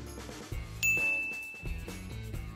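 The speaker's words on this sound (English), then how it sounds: "when something moves in the scene, your phone lets you know" A phone notification ding triggered by Nest Cam motion detection rings out once, a sharp high chime with a short ringing tail over a soft musical backdrop.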